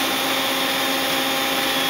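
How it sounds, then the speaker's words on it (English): Spindle of a 5-inch Daewoo CNC horizontal boring mill with a full 4th-axis rotary table retracting, a loud, steady mechanical whine and hum holding unchanged throughout. "Can you take the spindle back in?"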